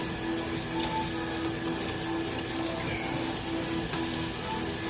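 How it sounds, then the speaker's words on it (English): Tap water runs steadily into a sink as hands are washed, a continuous close hiss and splash with no talking. "we're gonna go ahead and wash our hands here"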